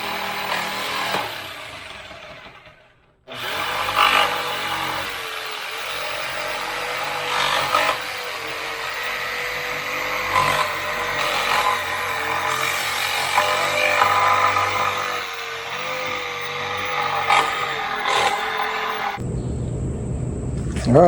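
A power saw cuts through old teak boat wood from a Grand Banks, biting into bronze nails and screws; a loud, sustained grinding whine runs for about fifteen seconds after a brief pause, with a short different burst at the end.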